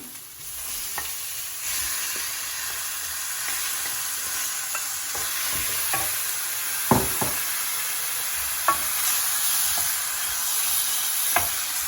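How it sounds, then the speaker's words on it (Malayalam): Mutton sizzles steadily in a pan with a spice mix while a spoon stirs it, with scattered scrapes and sharp knocks against the metal. "ഞാൻ ഇനി ഈ മിക്സിലോട്ട് നമ്മളുടെ മട്ടൻ ഇടുവാണ്."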